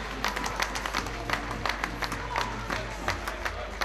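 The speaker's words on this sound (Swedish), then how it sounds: "En applåd." Scattered applause and crowd noise rise at a Swedish basketball game between Köping and Helsingborg, fairly faint and distant, with irregular claps over a low hum.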